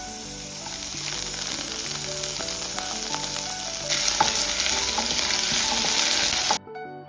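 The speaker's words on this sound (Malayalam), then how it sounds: "കടുകൊന്ന് പൊട്ടി വരുമ്പോൾ നമുക്ക് അതിലോട്ട് വറ്റൽ മുളകും കറിവേപ്പിലയും കുറച്ച് ഉഴുന്നും കൂടെ ചേർത്ത് കൊടുക്കാം." Mustard seeds, dried chillies, curry leaves and urad dal fry in hot oil, giving a dense close sizzle with scattered pops and a louder surge partway through before cutting off abruptly; no speech.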